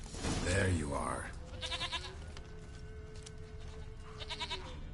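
Goat bleating in the video game The Witcher 3, wavering nasal bleats heard twice at moderate distance, mixed with rustling game ambience, while someone speaks over the start.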